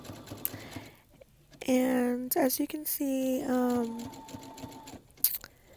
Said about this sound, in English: I'm sewing around each of these cards